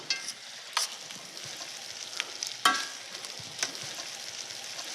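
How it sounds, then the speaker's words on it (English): Onions cook in balsamic vinegar in a pan with a soft, faint sizzle. A few sharp clicks and scrapes of stirring break through now and then, and no one speaks. "let it cook a little bit in the vinegar, give it some acidity"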